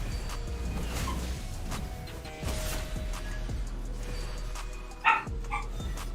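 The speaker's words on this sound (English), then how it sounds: "Oh, my dog crying." A dog whimpers and yips briefly in a room, a couple of short high cries rising over steady background noise from a game stream.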